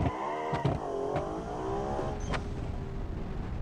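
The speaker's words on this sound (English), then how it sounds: "hit our launch control here, rev her up, and dump out the bottom" A car's engine revving up and launching under launch control for a 0 to 60 run, the pitch sweeping up and down through the gears over road and wind noise, close and with no talking.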